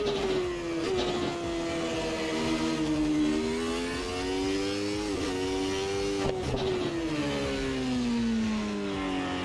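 A McLaren MP4/8 Formula One car engine in the racing game Assetto Corsa roars steadily, its pitch rising and falling through gear changes and corners, loud and close with no talking.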